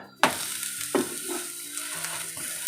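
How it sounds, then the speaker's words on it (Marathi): Thalipeeth flatbread with sesame roasting on a hot pan gives a soft, steady sizzle, with a few sharp clicks and scrapes as it is handled and no voices. "थालपीठ एका बाजूने पूर्ण असं खमंग भाजून घ्यायचं आहे आणि मगच आपल्याला हे पलटवायचं आहे"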